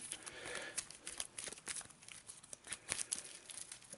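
A deck of playing cards being shuffled by hand, soft crinkling riffles and papery flicks in quick irregular bursts, close and fairly quiet, with no talk.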